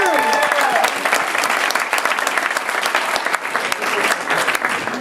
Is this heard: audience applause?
yes